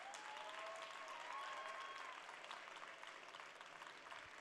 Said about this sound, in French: Je vous invite à applaudir toutes les jeunes filles qui vont présenter leur programme.